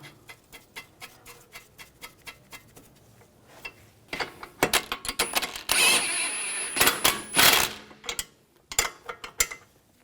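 A ratchet tightens the nut on a control arm bolt of an Audi A4 Quattro. Quick bursts of clicking come close and loud, with brief pauses and some metallic clanks between them, and nobody speaks.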